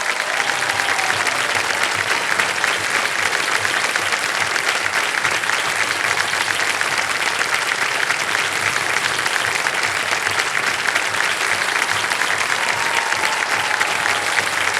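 A game-show studio audience applauding to welcome a contestant, sustained, dense clapping at a loud, even level throughout, with no talk over it.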